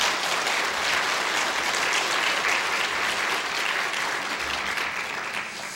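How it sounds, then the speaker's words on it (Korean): A church congregation at a Sunday worship service claps together in a loud, continuous wash of applause that holds steady throughout before easing off slightly at the close. "이 자리를 빌어서 한번 그분들에게 격려의 박수 한번 올리시면 감사하겠습니다."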